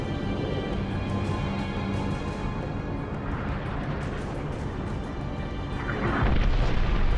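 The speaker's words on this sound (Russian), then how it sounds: "А, орбитальные пушки же, ну конечно." In Halo: Reach, an orbital cannon bombardment rumbles as a loud, continuous low booming roar, swelling into a heavier impact near the end.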